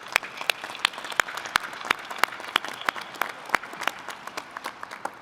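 Applause from the audience at a graduate commencement ceremony, a soft, distant wash of clapping from a large crowd with a few sharper nearby claps standing out at irregular intervals.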